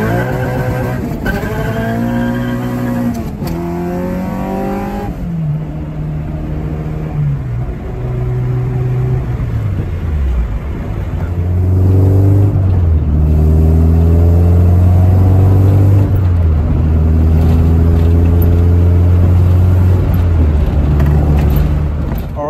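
A K24-swapped Honda Integra engine revs through a quick pull, loud and close, rising steeply in pitch, dropping back, then climbing again to a sustained high-rev howl near the cutoff.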